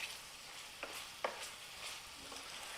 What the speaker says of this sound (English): The onions, you're caramelizing onions